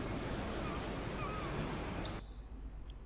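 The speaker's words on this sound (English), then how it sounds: "It's so windy! Look at the sea and the waves." Windy beach with sea waves surging, a steady broadband wash of surf and wind noise that drops off sharply near the end.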